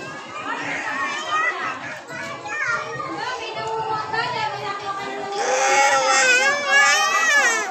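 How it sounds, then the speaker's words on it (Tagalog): A young child cries on the first day of school in June 2025, wailing sobs rising among a noisy crowd of chattering children and adults, growing louder toward the end. "Oh, ito, umiiyak."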